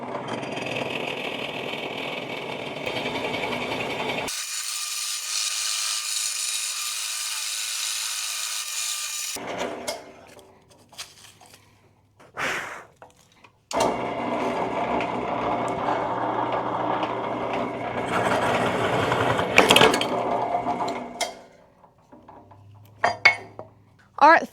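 A drill press bores into wood with a 1.5 inch Forstner bit, a steady whirring cut broken by pauses, scraping and knocks of the workpiece, with occasional handling clatter between passes.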